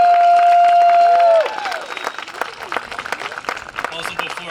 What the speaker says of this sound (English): So let's give Phil a great round of applause.